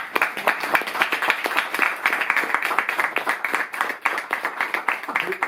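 Audience applause at a film talk in a Paris cinema, dense rapid clapping from many hands filling the room at steady loudness throughout.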